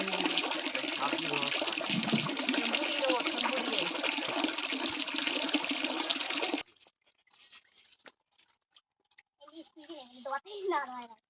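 Water gushes steadily while a scooter is washed, a loud continuous pour that stops abruptly partway, followed by quieter clatter and a voice talking near the end.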